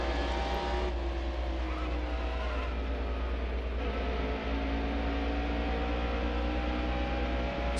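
A NASCAR race car engine in the NASCAR Heat Evolution video game drones loudly and continuously at Richmond, with small shifts in pitch as the car runs laps and no voices over it.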